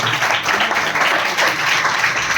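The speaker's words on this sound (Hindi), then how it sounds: "बार खुद के लिए ताली जरूर मार दो" Audience at a journalists' gathering clapping together for themselves, a dense steady patter of applause that stays loud throughout with no break.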